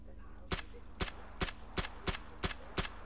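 Seven sharp gunshots ring out at a fairly even pace during a hunt on a hillside, each a loud crack standing out over faint outdoor background, with no talk.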